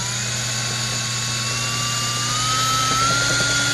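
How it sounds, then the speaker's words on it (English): A drill spins steadily in reverse to clear shavings from a hole during an intake manifold tumble valve repair on a Mazda 3 2.3L engine, giving a constant loud whine with a slowly rising tone and no talking. "Drilling in reverse."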